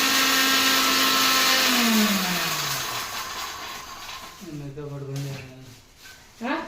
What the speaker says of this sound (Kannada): ನಮ್ಮಮ್ಮ ಗ್ರೈಂಡ್ ಮಾಡ್ತಿದೆ